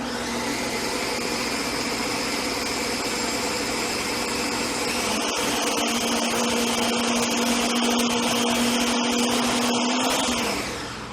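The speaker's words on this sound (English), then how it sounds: "Processor, whatever you have in your home, that's a great kitchen tool for pureeing or emulsifying." A home food processor purees snack ingredients such as tahini and lemon juice, a loud, steady motor whir that runs without a break and rises slightly in pitch near the end before winding down.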